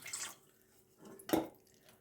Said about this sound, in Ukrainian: Виливаю в миску 300 мл водички.